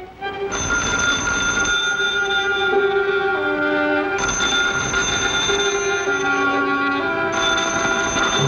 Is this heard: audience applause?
no